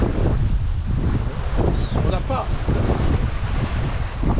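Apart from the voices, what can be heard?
wind of 13 knots at sea on a boat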